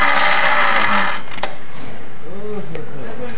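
Rough grinding and whirring from a scooter CVT rear pulley bearing, a loud close mechanical rasp with a brief clank, and a voice talking over it.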